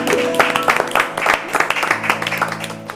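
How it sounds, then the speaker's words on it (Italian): Studio applause on an Italian broadcast, a lively burst of clapping with distinct close hand claps over a steady background tone. "Grazie per questo applauso"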